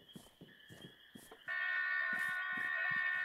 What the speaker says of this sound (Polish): Warning, this is only a test alarm.